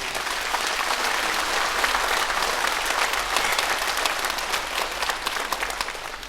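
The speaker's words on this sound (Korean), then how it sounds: "한번 박수 좀 해주세요" Church congregation applauding during a Korean sermon, a steady dense wash of many hands clapping that holds evenly throughout with no voices over it.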